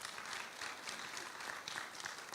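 Applause from a town hall audience: a steady wash of many hands clapping at moderate volume, continuous and fairly distant, with no voices over it.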